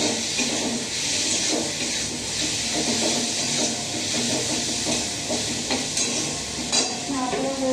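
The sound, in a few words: stirring frying masala with chili in pan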